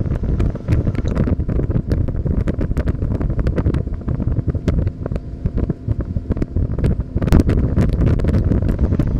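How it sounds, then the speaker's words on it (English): Strong wind roars steadily across an open-water fishing spot on a boat, a loud, continuous buffeting rush against the microphone with no voices. "there's even more wind out on the flats where we're going to fish"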